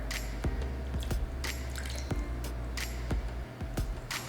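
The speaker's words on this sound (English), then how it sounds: "I always like to take the excess sauce that's in the bowl and I just pour it" Honey teriyaki sauce poured over salmon, with soft wet drips and squishy splats falling at irregular intervals, close and fairly quiet, with no talking.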